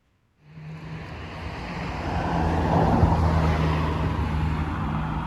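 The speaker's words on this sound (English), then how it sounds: "I apologise for the traffic, it's quite busy here today." Busy road traffic rises from silence into a loud, continuous roar of passing vehicles beside Chester's Roman-era city walls, steady and close with a low engine hum underneath.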